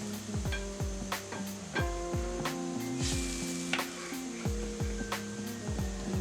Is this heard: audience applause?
no